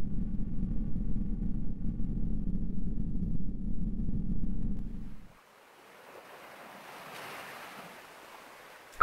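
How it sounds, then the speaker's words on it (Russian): Sea waves and surf wash in the video game Fez, a low rolling roar for several seconds that drops to a softer airy hiss of breaking water and wind, with no talk. "Какое-то море."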